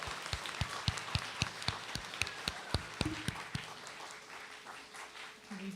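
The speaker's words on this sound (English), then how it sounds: "Let's give them a round of applause for this exciting accomplishment and opportunity." Sparse, scattered clapping from a small school audience at a spelling bee, sharp individual claps close by in an uneven rhythm that thins out and fades after a few seconds.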